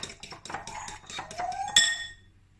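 A spoon stirs yogurt pizza batter in a bowl for a pan pizza, giving a quick run of clinks and scrapes of metal against the bowl, close and fairly loud, ending with a sharper ringing clink before fading out.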